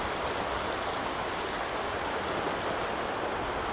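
Water rushes loudly and steadily through a tunnel near Glamis waterfall, a dense unbroken roar with no other sounds.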